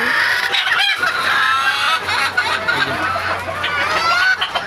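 Several Fayoumi chickens cluck and squawk close by in overlapping bursts against a busy farmyard background.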